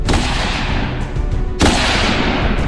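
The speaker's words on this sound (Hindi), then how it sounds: "वो बंदूक से गोली चलाकर शिकार करने की प्रैक्टिस कर रहे हैं" Two loud, booming gunshots in quick succession, each leaving a long rumbling echo.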